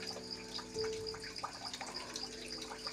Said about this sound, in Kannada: 4 ಲೋಟ ಆಗುವಷ್ಟು ಹಾಲನ್ನು ಹಾಕ್ಕೊಳ್ತಾ ಇದ್ದೇನೆ